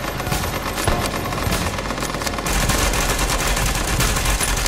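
Sustained automatic fire from an SMG or LMG in The Division video game, a dense, loud rattle that runs without pause and grows slightly heavier partway through.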